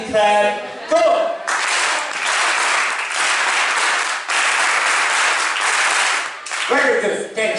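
A Rotary meeting audience breaks into loud, sustained group clapping for several seconds, dense and close, after a brief stretch of talk, ending as a voice returns.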